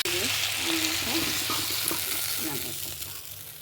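Sliced flat beans and potatoes sizzle steadily in hot oil in a pan, a dense continuous frying hiss with light stirring scrapes, close and loud throughout.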